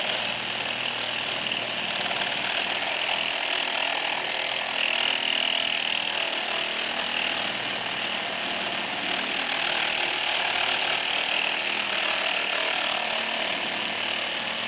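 A RIDGID GEN5X MEGAMax saw (R86400B) fitted with a Milwaukee Torch carbide-tooth blade cuts through solid steel, giving a steady, loud, high-pitched grinding whine that holds without a break for the whole stretch, with no talking.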